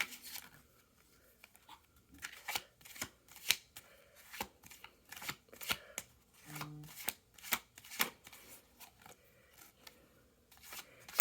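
A deck of tarot cards being shuffled by hand, close and quiet. Crisp riffles and slaps repeat in irregular bursts, with faint room noise and no talking.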